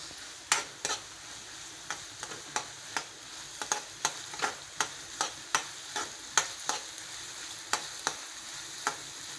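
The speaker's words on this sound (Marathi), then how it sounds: "आता कांदा घालते व्यवस्थित परतून घेते" Onion being sautéed in a pan for a spicy okra (bhendi) masala, a steady run of sharp spatula scrapes and taps in an even rhythm over a faint, soft sizzle, close by with no talking.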